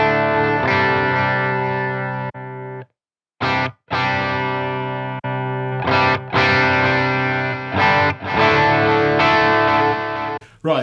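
Electric guitar run through a Boss IR-2 and a Line 6 HX One, with delay and a volume boost after the HX One, plays distorted chords with echoing repeats in stabbing bursts separated by short silences, close and loud, no talking.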